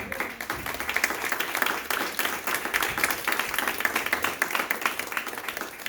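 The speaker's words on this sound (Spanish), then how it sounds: "¿Quién puede aplaudir esta noche, hermano?" Church congregation applauding during an evening service, a dense, steady patter of many hands at moderate volume, continuing throughout without speech.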